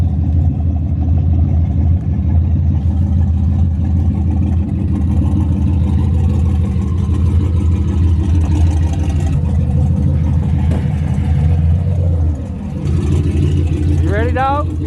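A GMC Yukon engine with an open downpipe exhaust idles with a steady, deep rumble, loud and close, and briefly revs near the end while voices talk over it.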